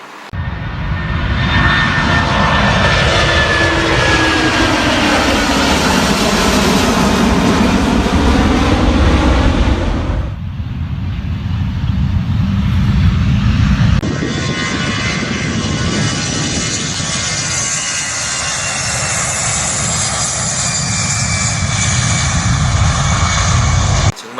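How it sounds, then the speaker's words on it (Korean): Airliners fly low over a golf course beside an airport in Thailand, a loud roaring jet engine drone that swells and shifts pitch, with a second plane rumbling in after a brief dip, continuous and near. "정말 비행기가 낮게 날아요"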